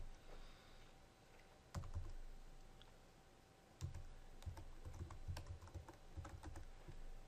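Keys tapped on a computer keyboard while entering a number into an online payment form, coming in short irregular bursts of clicks with brief pauses between them, close and fairly quiet.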